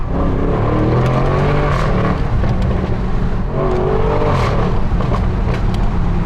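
An Audi RS6 engine runs loud and close, holding a steady, rich roar with rising and falling revs throughout, and no one speaks.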